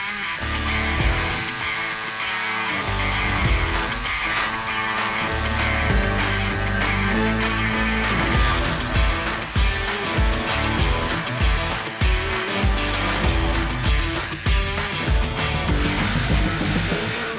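A Metabo cordless jigsaw with a Wood Metal blade, speed setting five and pendulum action off, cuts through wood containing real nails in a loud, continuous rasping whine, ending with a sudden shift in tone.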